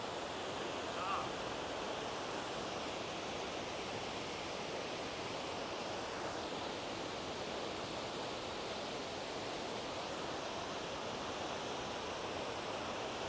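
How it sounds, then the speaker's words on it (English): Waterfall tumbling the length of a mountain canyon in the Cascade Mountains, a steady, broad rushing roar that holds unbroken and fairly distant throughout, with no voices over it. "It's basically a waterfall all the way down the canyon"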